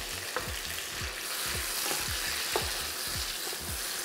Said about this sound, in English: just cook it on a high heat so that they sizzle and they kind of crisp up